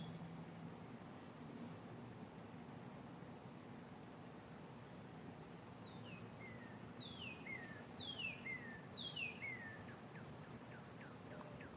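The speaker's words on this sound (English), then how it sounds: "I'm just gonna listen to the birds for a minute." Birds sing outdoors, with several chirps and short tweeting phrases over a constant broadband background hiss that grows busier toward the end.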